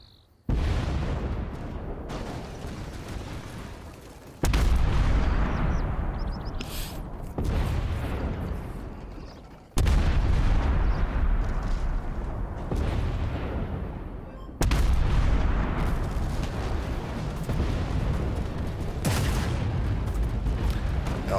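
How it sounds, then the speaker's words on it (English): An artillery shell, white phosphorus, fires in a video game with several heavy, booming blasts that each decay into a long rumbling tail, loud and close, with no voices. "Now it sounds like I just fired a white phosphorus shell."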